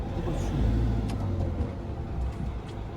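A caravan motorhome backs up slowly on a narrow road with its engine running in a low, rumbling idle. The sound swells briefly and then settles as it reverses nearby, under outdoor background noise.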